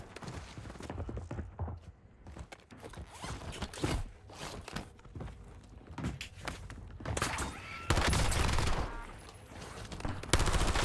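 Rapid bursts of gunfire in the Warzone battle royale game, dense and loud, with sharp cracks and heavier fusillades building toward the end, mixed with game sound effects.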